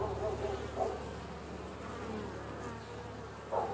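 Honey bees buzz steadily around an opened hive box during an early-spring inspection, a dense close drone that swells briefly at moments and continues without speech.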